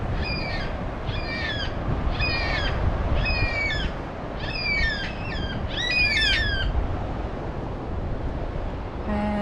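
Birds squawk loudly from behind bushes on the NSW Central Coast as they take off, a run of about seven harsh, rasping calls in quick succession over steady outdoor background noise.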